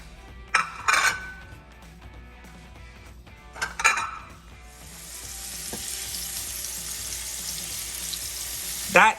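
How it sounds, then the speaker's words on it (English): Striped bass sizzles and crackles in hot olive oil with herbs and spices, the frying hiss swelling after a few clinks of utensils and pan, steady and close. "That wonderful crackly sound of the fish frying up in the olive oil with the herbs and spices."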